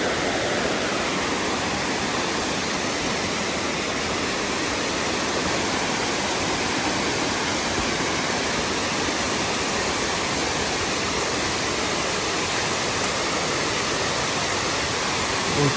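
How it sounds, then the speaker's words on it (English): Crabtree Falls on the Blue Ridge Parkway roars with strong flow as its cascades pour below the falls, a loud, constant rushing wash with no voices. "Cascades below the falls making a whole lot of noise."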